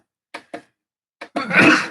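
A single sneeze bursts out loud and close after a few short throat sounds, with a sharp noisy blast of breath that fades quickly in a quiet room.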